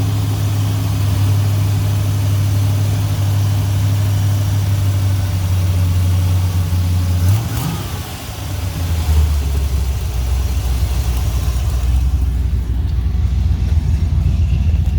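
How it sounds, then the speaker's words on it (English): A car engine idles steadily with a low, even rumble at about 1500 rpm; partway through the pitch drops as the revs come down, then the idle settles lower, around 800 rpm. "It's idling about 1500. Let me idle it down a little bit."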